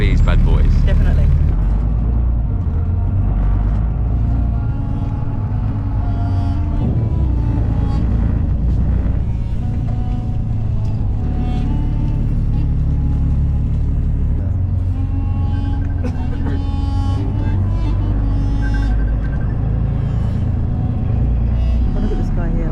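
Continuous low rumble of city traffic in Riyadh just after stepping off a bus, with engines and passing vehicles droning steadily throughout and a loud, dense road noise bed.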